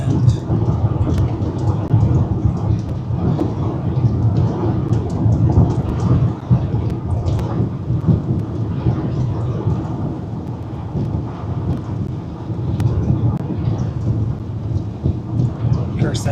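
Heavy rain pours steadily during a supercell thunderstorm in New Mexico, a dense continuous roar with rumbling thunder underneath, loud and close throughout with no talking.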